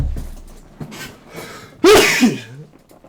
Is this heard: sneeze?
yes